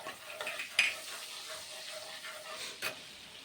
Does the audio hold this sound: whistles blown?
no